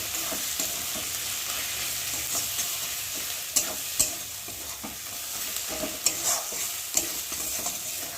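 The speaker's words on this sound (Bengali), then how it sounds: "আজকে ভালো করে তেলের মধ্যে ভেজে নিই" Spices and turmeric fry in oil in a pan, a constant bright sizzle with a few sharp spatula scrapes and knocks as the mixture is stirred.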